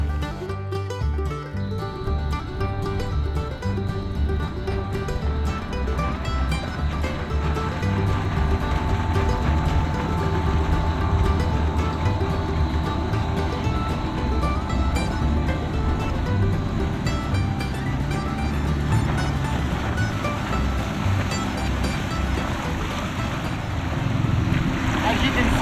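A dinghy with an outboard motor runs steadily across the water, a continuous droning engine roar with wind buffeting and splashing throughout, holding a constant loud level.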